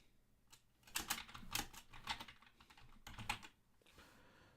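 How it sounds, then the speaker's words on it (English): Typing on a computer keyboard comes in bursts of quick clicks and clacks, close and fairly quiet, with short pauses between runs and a brief quieter stretch at the end. "I am going to type something else"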